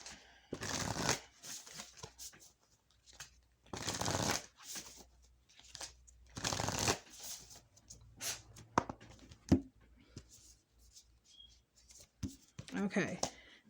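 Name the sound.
shuffling tarot cards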